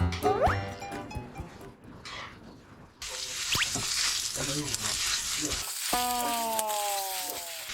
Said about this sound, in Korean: 야채를 일단 볶고 있고요